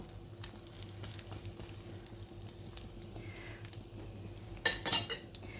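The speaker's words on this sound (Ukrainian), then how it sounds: "обсмажуємо на одній стороні, підсмажиться, перевертаємо на другий бік" Waffle cones filled with canned fish and rice fry in a pan with a low, steady sizzle. Cutlery and pan clatter break in near the end as the cones are turned over.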